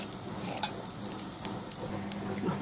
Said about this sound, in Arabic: نحمر الشعريه مع بعض كده